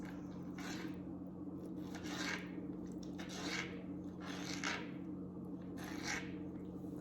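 A kitchen knife slicing raw salmon strips into cubes on a board, five or six soft separate cuts spaced about a second apart over a steady low hum, near and quiet, with no voices.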